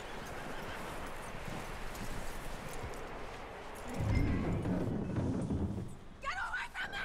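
Horse hooves clip-clop in Red Dead Redemption 2 game audio, steady through a busy mix, with a brief neigh-like burst near the end and voices talking underneath.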